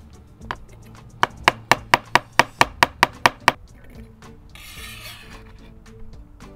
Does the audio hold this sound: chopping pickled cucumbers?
yes